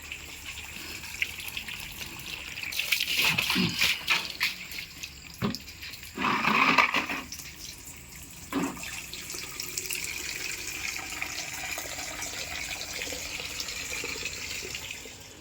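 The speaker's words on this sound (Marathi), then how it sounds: "पहिल्यांदा पाणी भरून घेऊया" Water runs from a household tap to fill containers, a steady gushing and trickling with louder splashing bursts partway through, heard close with no talking.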